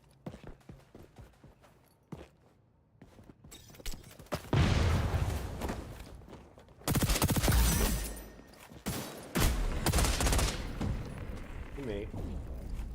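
Bursts of automatic gunfire from the shooter game XDefiant crack out in several loud volleys separated by quieter gaps with footsteps and thuds, while a person talks faintly in between.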